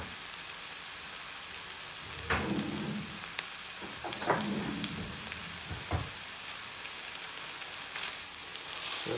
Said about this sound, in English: so now the pan is hot enough, so I'm just gonna stick the mince.